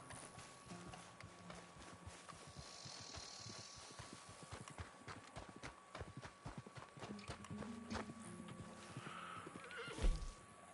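Steady clip-clopping hooves trot along while a horse whinnies now and then over a low background hum, with a louder thump near the end, in the video game Red Dead Online.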